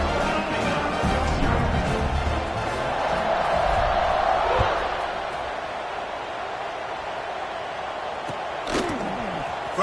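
A home crowd at a football game cheers in a broad, distant roar that swells and then eases, with a few sharp thuds and a commentator's voice in the mix.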